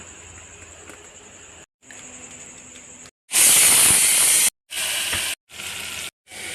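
A pressure cooker cooking moong dal hisses loudly in repeated bursts of steam, each blast cutting off abruptly before the next, close and intense.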